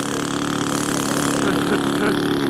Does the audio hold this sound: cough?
no